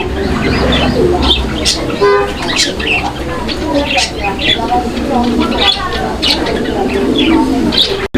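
Pigeons kept for sale at a fancy pigeon market coo throughout, their low warbling repeated over a busy crowd, with people talking nearby.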